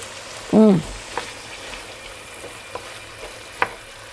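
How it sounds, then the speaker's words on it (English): Sun-dried tomatoes added to a pan of frying chicken, giving a soft, steady sizzle with a brief stirring knock near the start and a few faint clicks, with no talking. "I'm going to add the sun-dried tomatoes to this now"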